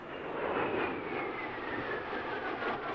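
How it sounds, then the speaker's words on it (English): A military jet roars overhead at an airshow while performing a tail slide, a broad continuous engine rumble and whoosh holding steady throughout, distant but loud. "Here's another tail slide like that of the F-22 we saw earlier."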